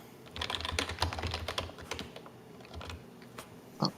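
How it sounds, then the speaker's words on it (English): Someone taking notes on a computer keyboard, a quiet run of rapid, uneven keystrokes with a few louder taps near the end, heard alone at close range. "Somebody's typing."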